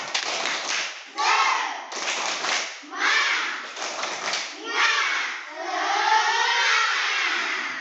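Children in a classroom perform a rhythmic spirit clap, bursts of group clapping alternating with chanted young voices, fairly close and lively, ending in a sustained shout.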